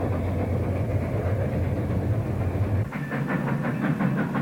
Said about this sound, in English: The coal-fired steam locomotive.